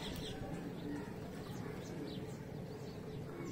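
Pigeons coo softly in a low, repeating murmur, with a few higher chirps over a constant outdoor hum, fairly faint and with no clear talk.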